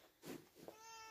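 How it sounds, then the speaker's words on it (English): A house cat gives a short meow, then a second brief, higher call, close by and fairly faint against a quiet room with a faint steady tone behind. "Oh, cat's back in as well."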